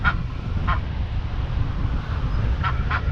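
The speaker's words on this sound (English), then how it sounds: "Little peeking duck." Brief duck calls sound several times over steady rushing water at a waterfall ride, short bursts spaced irregularly and moderately distant, with no talking.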